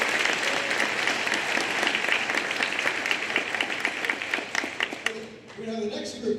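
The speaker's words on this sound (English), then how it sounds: "So give them a round of applause." Audience at a senior awards night applauds students, with steady, full clapping throughout that thins toward the end, with faint talk underneath.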